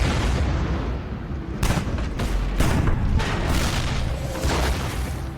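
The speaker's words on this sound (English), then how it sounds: "Soviet artillery begins to shell Berlin on April 20th, the birthday of Adolf Hitler" Soviet artillery shelling Berlin in World War II, a dense, continuous roar of distant and nearer booms and rumbling blasts overlapping with no pauses, heavy low-end thuds rising in clusters.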